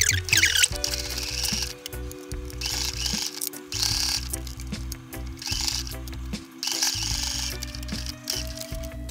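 A sewing machine runs a classic straight stitch at 1 cm on jersey fabric for a menstrual underwear pattern, a close rapid mechanical whirring in several bursts with brief pauses between.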